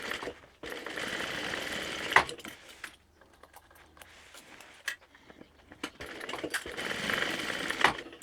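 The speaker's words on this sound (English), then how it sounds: "I find it easier to sew from the inside. It seems to sit flatter, so we're just going to sew along there." A sewing machine stitches a seam on a vinyl tote bag from the inside, running in a steady close whir for a couple of seconds, pausing, then starting up again with a similar sustained buzz.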